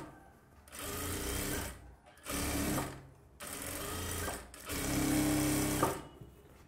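Sewing machine stitching a katori blouse, four bursts of fast, steady mechanical whirring and needle chatter separated by brief pauses, close and clear with no talking.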